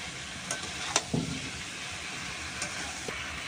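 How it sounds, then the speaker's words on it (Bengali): Potato and purple cauliflower being sautéed with spices: a steady close sizzle of frying with a few clicks and scrapes of stirring, and no talking. "আলু আর ফুলকপিটা মশলার সাথে কষিয়ে নিচ্ছি"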